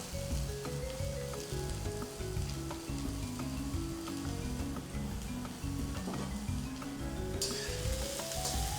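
Chopped beans, carrot and cabbage hit a hot pan and fry with a loud, continuous sizzle and occasional stirring, no voices.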